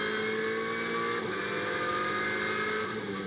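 GT4 race cars lap the Monza circuit with a steady, dense engine roar. The pitch shifts subtly as the cars accelerate and brake, and the sound is continuous throughout.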